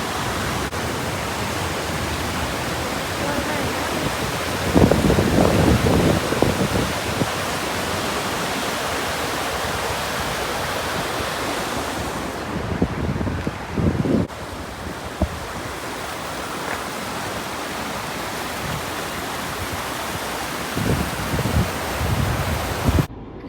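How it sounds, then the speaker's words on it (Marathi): A river in full flood rushes past near a temple in rural Maharashtra, a loud, continuous roar of churning water with gusts of wind buffeting the microphone throughout. "त्यांची नदी बघा किती वाहून चालली आहे. तुडुंब भरली आहे नदी बघा"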